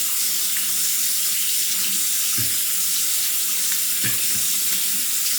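Tap water runs steadily into a sink while shaving lather is rinsed off, a continuous close splashing flow with a couple of brief heavier splashes and no talk.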